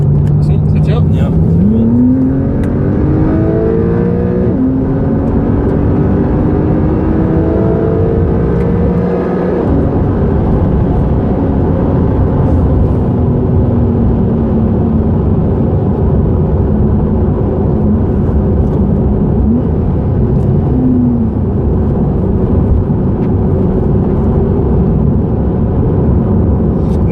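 A Porsche 911 of the 992 generation with a turbocharged engine pulls hard while driving, its revs rising in repeated climbing sweeps through the gears, loud and close from inside the car, with people talking over it.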